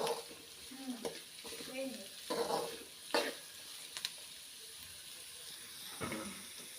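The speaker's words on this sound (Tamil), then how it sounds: "கொஞ்சம் வதங்கட்டும்." Carrot, beans and other vegetables sautéing in a pan while making millet pongal, a soft steady sizzle with intermittent stirring scrapes, close but fairly quiet.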